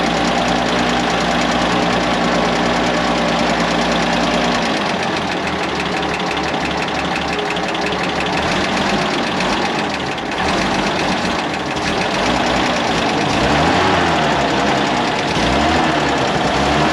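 A Bedford QL truck engine with a flooded carburettor runs rough close by, a loud continuous uneven rumble that shifts pitch partway through, with no voices over it.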